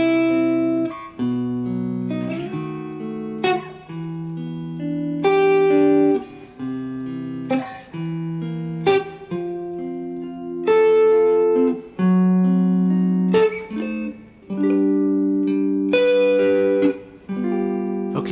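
Guitar chord progression in which a diminished chord resolves to G, strummed chords ringing out in a steady sequence with sustained voicings, close and alone without talk.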